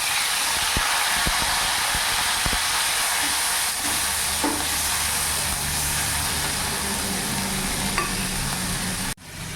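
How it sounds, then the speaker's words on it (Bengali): Ground ginger and green chili paste added to oil with whole cumin and chili tempering, frying with a steady close sizzle, a few sharp ticks and spatters early on, then cutting off abruptly at the end, no talking. "এবার বেটে রাখা আদা আর কাঁচা লঙ্কা দিয়ে দেবো"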